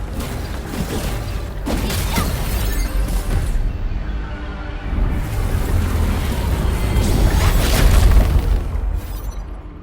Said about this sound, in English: We need to destroy that anchor first.